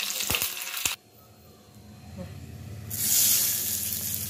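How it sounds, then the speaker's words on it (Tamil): Mustard seeds, curry leaves and dried red chillies dropped into hot oil for a Tamil-style tempering, a sharp crackle up front, a quieter simmer, then a loud, steady sizzle bursting up near the end. "தேவையான வகை எண்ணெய் ஊற்றி கடுகு போட்டுக்கலாம். கூடவே கருவேப்பிலை, வரமிளகா போட்டுக்கோங்க."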